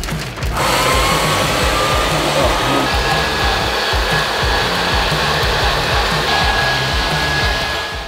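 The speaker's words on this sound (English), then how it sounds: "So now we're gonna blow salt in here." A blower roars steadily and loudly into a wood-fired pottery kiln at top temperature while salt is blown in, a continuous broadband rush with a faint high whine, starting abruptly after a brief quiet moment.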